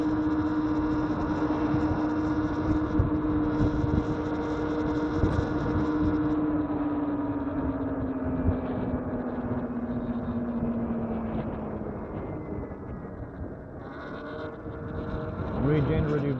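An electric motorcycle rides with regenerative braking, a steady electric whine that slowly falls in pitch under constant road and wind rush, with a rider talking over it.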